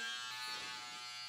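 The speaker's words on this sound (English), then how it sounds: "Are those my hair clippers?" Electric hair clippers buzzing steadily close by, a bright continuous motorised hum with a thin whining overtone, faint and alone for about a second.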